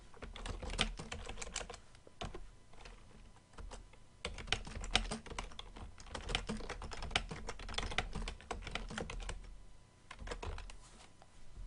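Quick, light keystrokes patter on a computer keyboard as a short note is typed, coming in uneven bursts with brief pauses, close and fairly quiet, with no talking.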